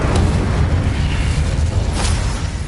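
Incendio fire spell cast in Hogwarts Legacy, a loud continuous roaring burst of flame with low rumbling booms and brief crackling flares, no voices.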